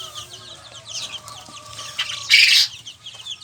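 Twelve-day-old chicks of several colours chirp and cluck nearby in short high calls, with a brief louder burst of peeping partway through.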